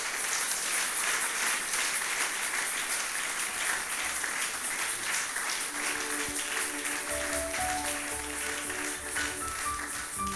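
A church congregation applauds with sustained, dense clapping, steady and loud, with a sustained musical tone and faint voices underneath toward the end.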